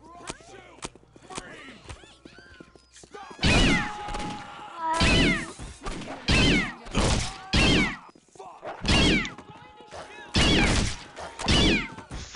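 A cat meows repeatedly in the video game Postal 2: loud, close, drawn-out cries in a ragged series, with soft thuds and footsteps between them.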